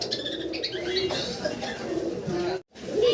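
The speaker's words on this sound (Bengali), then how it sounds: "অনেক বড় সাইজের বোম্বাই কবুতর" Large Bombay pigeons coo softly and repeatedly amid a busy background of birds, with people talking nearby and a brief drop-out near the end.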